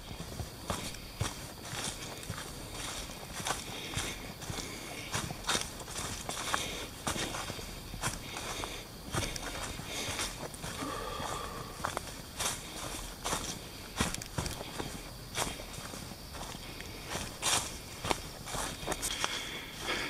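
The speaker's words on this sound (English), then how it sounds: "So I'm walking up over the hill." Footsteps on a hillside trail as someone walks up and over a hill: a steady run of close crunching steps, fairly even in rhythm, with no talking.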